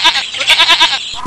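A sheep or goat bleats in a run of quick, wavering, nasal calls, close and loud, with a short pause before a final cry.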